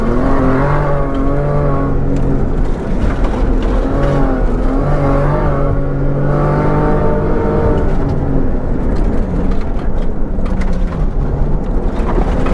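A Nissan Skyline GTR Safari rally car is driven hard along a rally stage, its engine loud and close, revving up and down through gear changes in a continuous strained roar.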